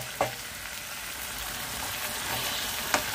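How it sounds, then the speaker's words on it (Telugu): Boiled cluster beans dropped into hot oil give a steady, close sizzling hiss with a couple of sharp crackles and a stirring clatter, and no voices. "ఉడకబెట్టిన గోరుచిక్కుడు వేసేసుకుందాము."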